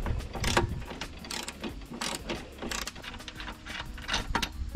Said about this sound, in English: we will try it with this 13mm socket wrench first.